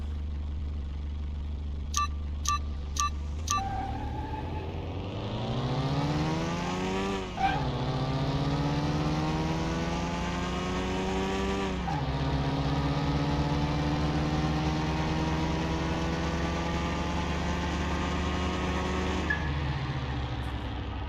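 A Fiat Panda engine in the game Car Mechanic Simulator 2021 starts at a low idle after a few sharp clicks, then revs up in long rising sweeps, drops back and climbs again, and finally settles before fading.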